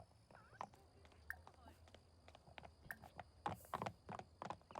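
Horse hooves clip-clop in a Sims 4 game scene, a fairly faint, irregular run of light steps over quiet ambient background with brief chirps.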